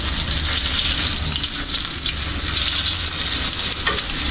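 Sunny side up eggs fry in a pan with a steady, loud sizzle that crackles and spits continuously throughout, close up and with no talking.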